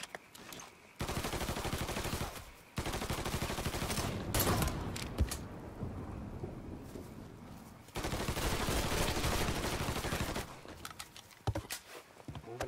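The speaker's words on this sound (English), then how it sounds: "Oh snap, he's still shooting." Heavy gunfire in Mafia 3 erupts in long, dense volleys of overlapping shots, loud and close, broken by short pauses before another sustained barrage.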